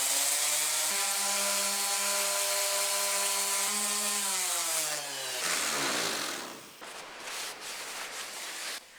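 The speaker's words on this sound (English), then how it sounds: "I repeated this step before starting with the orbital sander." A power tool hums loudly and close by, spinning down in pitch partway through and then giving way to gritty scraping as an orbital sander works rust off a vintage woodworking machine.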